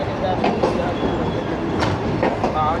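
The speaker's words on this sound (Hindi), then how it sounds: "8:41 और सांगला हिल जंक्शन पहुंच गई है शालीमार एक्सप्रेस" The Shalimar Express rolls into Sangla Hill Junction with a continuous rumble of coaches, rhythmic wheel clacks and occasional brief squeals, heard up close.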